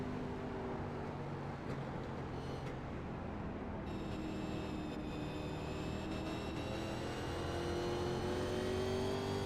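At Phoenix Raceway, Andrew Hayes' race car engine holds full throttle in a loud, sustained drone whose pitch slowly climbs, with steady harmonic whine throughout.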